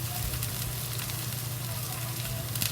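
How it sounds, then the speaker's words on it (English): Steady crackling sizzle of food frying in a pan while tomato scrambled eggs are being made. The hiss is even and continuous, close and moderately quiet, with no one speaking. "Then you fry it to give a flavor."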